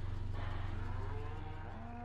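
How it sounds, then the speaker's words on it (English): Cows mooing in the video game Farming Simulator 17: a drawn-out, steady low moo from livestock, sustained for about two seconds at moderate loudness. "that's the cows and the sheep that are across the street"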